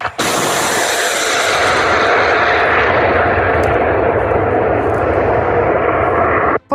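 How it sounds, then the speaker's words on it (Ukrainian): Air defense firing at Shahed drones over Odesa region, a loud, sustained roar of engine drone and gunfire blended into dense rumbling noise that runs for nearly seven seconds with no speech. "Ось як дрони збивали над Одещиною."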